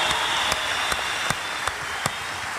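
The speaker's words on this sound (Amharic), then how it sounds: "ላሳየው ትጋትና ጽናት አንድ ጊዜ አጨብጭቡለት" Audience applause in a church hall, steady broadband clapping from a crowd filling the whole stretch at moderate level, with a few sharper individual claps standing out.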